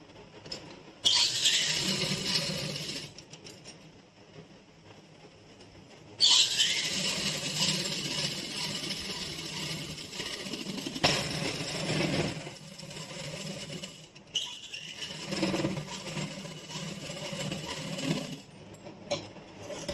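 A sewing machine stitches fabric around a palazzo pocket, running in several long steady bursts with brief pauses between them, close and fairly loud with no talk.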